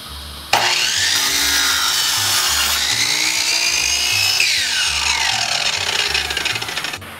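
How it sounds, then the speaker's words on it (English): A power saw cuts pallet wood boards for a chevron-pattern coffee table top, starting abruptly and droning loud and steady for several seconds, its pitch rising and falling as it moves through the wood, with no talking. "Alright, so I got the boards cut."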